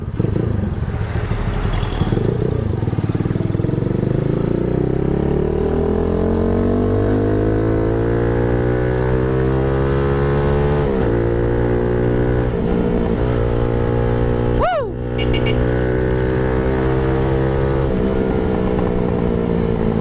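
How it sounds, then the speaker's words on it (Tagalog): A loud Kawasaki Z200 motorcycle engine with an Austin Racing exhaust and silencer drones steadily for the whole stretch, its pitch climbing through gear changes with brief dips, a muffled but throaty exhaust close by. "Yan ang tunog ng merong silencer."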